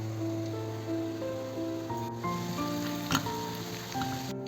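Small shallots frying in a pan until light brown for a Kerala-style coconut green peas curry give a quiet, continuous sizzle under background music.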